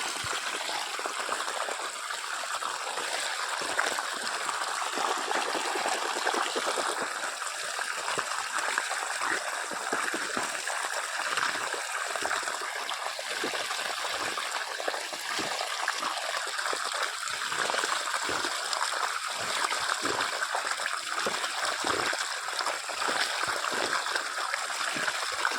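Water in a village stream flows and trickles steadily, a continuous close bubbling rush that runs throughout with no talking.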